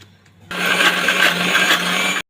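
A kitchen mixer grinder whirs loudly and steadily as it grinds fresh coriander into a paste for a soybean sandge curry. The motor starts abruptly after a moment of quiet, runs continuously for about two seconds, then cuts off.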